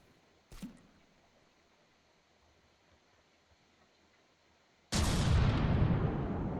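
An explosion in DNND 2: a short sharp bang early on, then after a quiet stretch a sudden loud, broad blast that roars on and slowly decays to the end.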